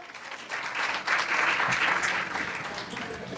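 Audience applause at a women's empowerment event, a steady wash of clapping that swells for a few seconds, loud and continuous with a faint voice beneath.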